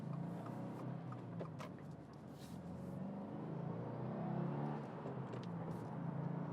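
A 2024 Subaru WRX TR sedan driving on slick roads, its engine droning steadily from inside the cabin as it moves through the gears, with rising and settling tones under a constant road hum.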